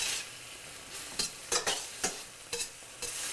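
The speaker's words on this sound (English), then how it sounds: "I'm going to saute those tomatoes with the garlic." Tomatoes and garlic sauté in a pan with a soft, steady sizzle, broken by several sharp scraping stirs of a utensil at irregular intervals, close by and with no talk.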